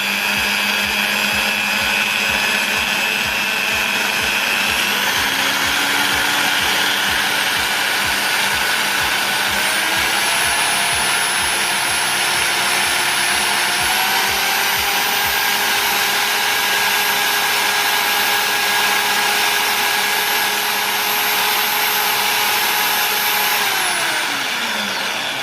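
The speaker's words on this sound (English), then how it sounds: "just rip your drill" A power drill spins wire for a fused Clapton coil used in a vape build, a loud continuous whirring motor hum that holds steady, shifts pitch a few times, then winds down at the end.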